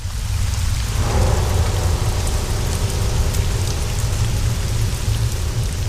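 Heavy rain pours steadily near a hut in a mountain setting, a dense, loud, unbroken hiss with a low rumble like distant thunder underneath, continuous for several seconds with no voices.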